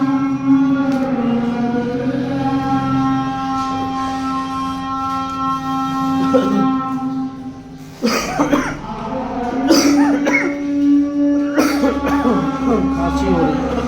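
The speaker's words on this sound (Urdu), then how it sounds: "کھانسی ہو رہی ہے" Several coughs break out midway over a steady sustained droning tone, with voices and room noise around them, inside a mosque.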